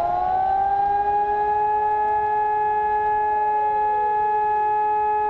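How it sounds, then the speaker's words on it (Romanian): A civil defense siren sounds during a test in Romania, a loud, steady wail whose tones slowly slide and overlap as it winds, continuous throughout with no voices. "Din cele de 256 de sirene au funcționat un număr de 184."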